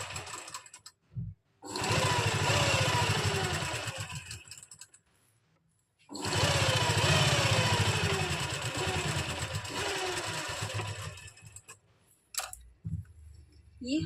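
An electric sewing machine stitching the lining of a kameez, running in two long steady whirring bursts separated by brief pauses, with short clicks and handling noises at the start and end.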